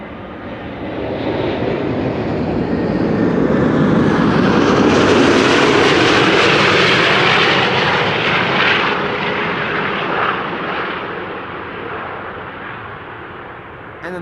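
Widebody airliner landing at Amsterdam Schiphol Airport on a frosty day, engine roar rising from a distant hiss to a loud close pass around the midpoint, then fading steadily as it recedes, no talking.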